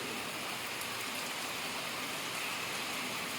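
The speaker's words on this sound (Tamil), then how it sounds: "நல்ல மழை பெய்யும் ப்ரோ" Soft, continuous rainfall hisses evenly, a fine wash of drops on surfaces at moderate distance with no other sounds.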